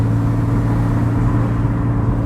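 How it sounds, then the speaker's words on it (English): Engine of a black Porsche 911 Turbo S Cabriolet downshifting on the road, a steady loud low drone with a dense rumble held throughout and no voices. "But here, just gotta keep downshifting."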